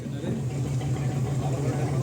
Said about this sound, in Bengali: লঞ্চ ছেড়ে দিয়েছে।